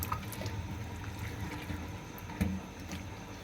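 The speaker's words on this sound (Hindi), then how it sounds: "ये बारीक छन्नी में आपने वॉश करना है, क्योंकि कीमा बहुत बारीक होता है" Water running and splashing through a fine sieve while minced meat is rinsed in a kitchen, a continuous soft trickle with a brief louder splash near the end, no voices.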